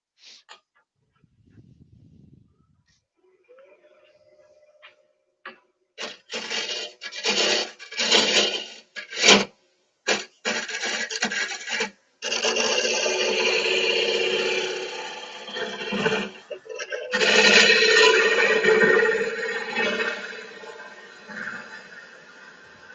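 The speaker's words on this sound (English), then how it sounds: "I'm going to try a couple of tools for hollowing this out" Hand tools scrape and rasp as they hollow out a piece of wood, starting with short scratchy strokes and building into long continuous grinding passes, close and fairly loud.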